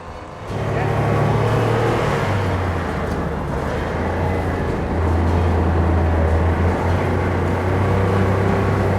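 A tank drives with a loud, steady low engine drone and a dense mechanical rumble heard from close range. The noise holds constant throughout, with slight shifts in pitch as the engine works.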